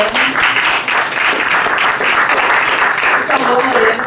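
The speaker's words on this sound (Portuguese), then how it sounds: "Palmas a Lorena." An audience at a democracy soirée claps steadily and loudly for a speaker throughout, with some voices mixed into the applause.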